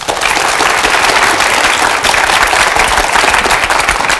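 A studio audience at a televised lecture gives loud, dense applause to welcome Professor Kim Joo-hwan, steady clapping that holds evenly for several seconds.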